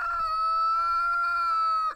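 A rooster crows close up on a farm near a chicken tractor, one long sustained harmonic call lasting about two seconds before cutting off, with faint low rumble beneath.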